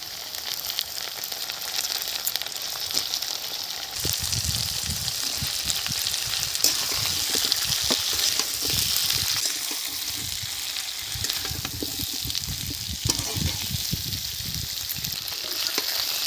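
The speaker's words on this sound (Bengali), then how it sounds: "আলুগুলো 5 মিনিট ভেজে নিয়েছি এইভাবে।" Potatoes frying in a pan with browned onions for a Bengali home-cooked meal, a continuous oily sizzle that grows fuller partway through, with occasional stirring scrapes and no talking.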